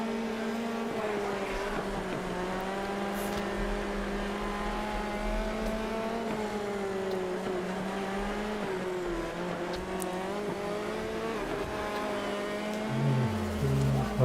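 Midget race cars roar around a dirt track in World of Outlaws 24, a steady layered engine drone with pitch rising and falling through revs, loudest near the end as one car closes in.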